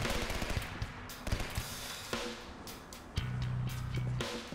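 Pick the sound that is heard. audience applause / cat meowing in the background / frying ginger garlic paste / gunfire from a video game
gunfire from a video game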